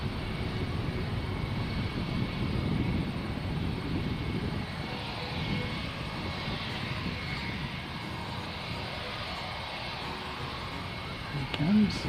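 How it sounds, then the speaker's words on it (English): An aircraft passes over a plane-spotting site, a steady broad roar that holds for the whole stretch, with voices talking faintly beneath it. "an aircraft."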